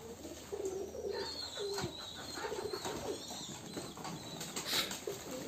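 Domestic giribaz pigeons bathing in water coo steadily up close, with intermittent wing flaps and splashing amid general farmyard ambience.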